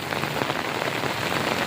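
Rain falls steadily on a nearby surface during a thunder-and-lightning storm, a dense, even patter of drops that is loud and close with no voices.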